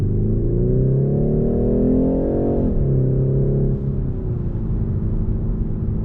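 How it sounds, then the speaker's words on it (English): A 2021 BMW 430i xDrive accelerates at full throttle in sport mode, its engine droning loudly and rising steadily in pitch, then dropping at a gear shift before climbing again, heard from inside the cabin. "we're gonna floor it one more time here in sport mode."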